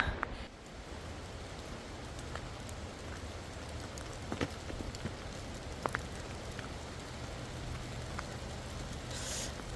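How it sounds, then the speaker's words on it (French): Rain falls steadily on a path outside a cave, a dense, even hiss with scattered sharper drips and taps, quiet and continuous with no voices. "il commence à pleuvoir un peu fort"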